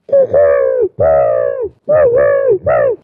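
A human voice imitates a dove's cooing in four soft, drawn-out hoots, close and clear, with short pauses between them.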